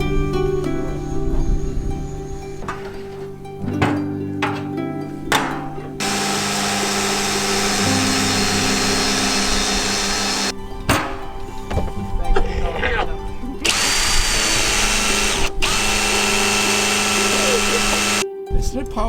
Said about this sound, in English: Is it powered by a drill? Power drill, little pump.